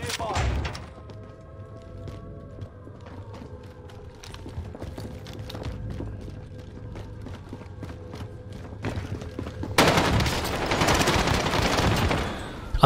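Video game gunfire from a shooter with an AI teammate, with scattered sharp shots and bursts over a background hum, rising into a loud burst of rapid fire near the end.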